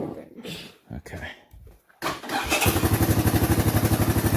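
A restored 1984 Honda ATC 200E three-wheeler turns over and fires up, settling into a loud, steady, rapidly pulsing idle, with people talking just before it starts.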